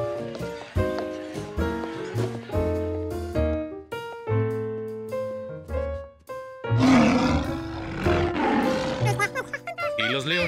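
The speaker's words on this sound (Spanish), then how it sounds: "Los leones rugían demasiado fuerte." Lions in a children's cartoon roar loudly and roughly over melodic background music, with the roars taking over in the second half.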